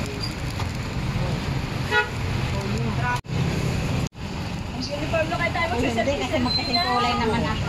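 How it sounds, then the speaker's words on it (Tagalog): Busy road traffic with car and motorbike engines, occasional horn toots and a steady rumble, loud and close, with people chatting throughout. "Ayan ang traffic."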